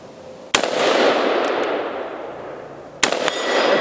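An AR-15 rifle in .223 fires two sharp, loud shots into the dirt about two and a half seconds apart, each with a short ringing tail outdoors.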